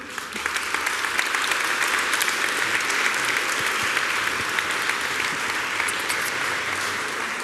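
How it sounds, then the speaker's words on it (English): A conference audience gives sustained applause at the end of a talk on team culture, a steady wash of many hands clapping throughout with no voices on top. "Warm hand of applause."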